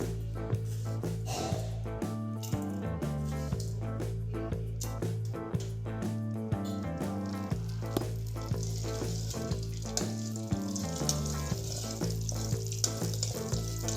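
Mustard seeds and urad dal fry in hot oil in a kadai, a steady close sizzle with small pops and crackles running continuously, with music playing over it.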